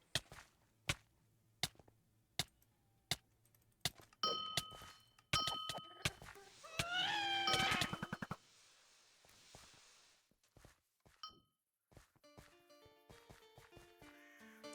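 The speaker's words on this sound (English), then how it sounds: "the key will start turning and clicking, eventually getting faster until the music box opens up" Clicking ticks from a music box key turning in the video game Wynncraft, spaced evenly and then quickening, followed by chiming tones and a short wavering cat-like meow, with a few sparse clicks and soft tones after.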